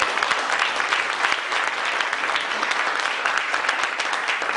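An audience at a boxing award ceremony applauds steadily in a dense, sustained wash of clapping that stays loud and even throughout.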